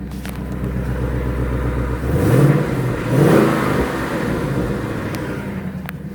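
A 2021 Ford Mustang GT 5.0 V8 with its exhaust set to quiet mode idles with a steady low rumble, then gives two short revs that swell and settle back.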